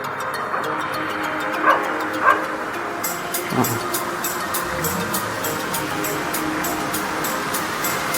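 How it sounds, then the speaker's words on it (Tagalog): Dogs living on a mountainside among a baboon colony in Taif, Saudi Arabia bark intermittently at a distance, a few yips over steady rumbling outdoor background noise. "Kasama nila dyan sa bundok yan yung mga aso."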